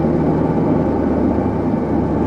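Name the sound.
1983 Firebird Crossfire injection engine idling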